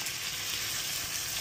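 Egg frying in a hot pan alongside grilled eggplant for a Filipino tortang talong, a steady close hiss of sizzling oil with no voices.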